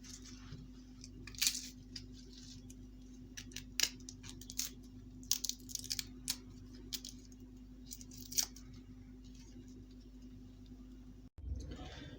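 Garlic cloves soaked in water being peeled by hand, with small scattered crackles and soft squishy snaps close by over a low steady hum, no talking.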